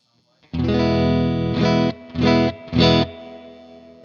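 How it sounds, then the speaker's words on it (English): Electric guitar chords through a clean Vox AC15 amp, each one ringing out with a splashy, springy spring-reverb tail; one long strum followed by three shorter stabs. "That's a spring reverb in the Vox that you hear."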